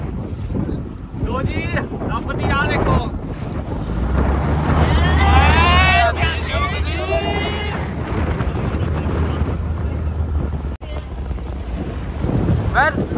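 A self-drive motor boat moves across the water in Wales with a steady engine hum under heavy wind buffeting. Voices talk over the noise for much of the time.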